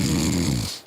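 A person deliberately fakes a snore as an anti-snoring exercise, one harsh rattling throaty rasp close up that fades out at the end. It is a human imitation of snoring.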